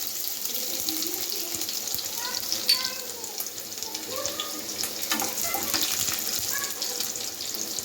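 Garlic for fried rice sizzles in a hot pan, a steady crackling hiss with scattered sharp pops running evenly throughout at close range, with no talking.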